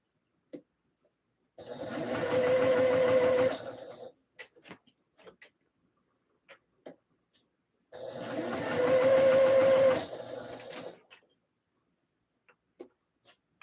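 Sewing machine stitching a skort runs in two short bursts of a couple of seconds each, a steady whirring hum with a faint whine, separated by quiet gaps with small clicks and fabric handling.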